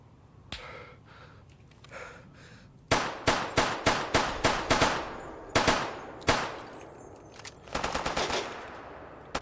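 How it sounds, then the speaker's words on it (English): Gunfire in the modded game Fallout: New Vegas: a single early shot, then a rapid burst of sharp, loud cracks, more scattered shots and a final quick volley, over a quiet background. "somebody's shooting at me"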